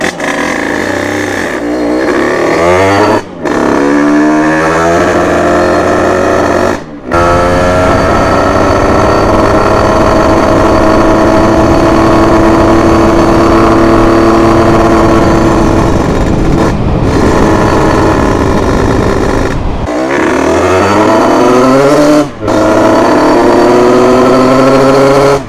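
Yamaha DT 50cc two-stroke motorcycle engine running after a kick start, freshly fitted with a new carburetor jet, a loud close buzzing idle with repeated short blips of revving and dips throughout.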